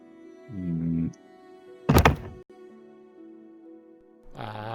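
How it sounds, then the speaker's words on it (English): A cat bumps against a laptop and microphone while pushing them aside, giving one loud, close thump and brief clatter between stretches of low humming tones and quiet room sound. "that is a cat that is trying to move my laptop aside"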